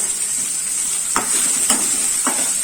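Chopped capsicum stir-fried in a pan for restaurant-style dragon chicken, a steady close sizzle with a few soft scrape-and-stir strokes recurring about every half second.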